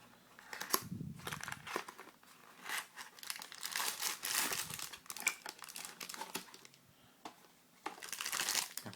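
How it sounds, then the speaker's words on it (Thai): Plastic wrapping crinkles and crumples in irregular bursts as a Honda Wave 100 connecting rod kit is unwrapped, rustling close and fairly quiet with brief pauses between handling. "แกะออกมาก็เจอพลาสติกห่อชั้นนะครับ"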